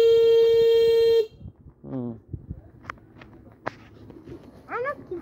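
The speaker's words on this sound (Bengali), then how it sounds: "হর্ন দাও, হর্ন দাও, তাড়াতাড়ি হর্ন দাও" A loud, steady vehicle horn blast lasting about a second opens, then cuts off, leaving voices talking over light traffic and outdoor bustle.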